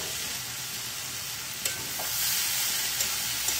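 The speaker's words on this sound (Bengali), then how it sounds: "মিডিয়াম ফ্লেমে রেখে 2 মিনিট একটু নাড়াচাড়া করে আমি কষিয়ে নেব" Ground spices, including chilli powder, are stirred and sautéed in a pan over a medium flame, giving a steady close sizzle with occasional light clicks of the spoon.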